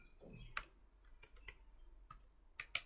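Quiet, close keyboard typing on a computer, a scattered series of light key clicks with irregular gaps and a few louder taps near the end.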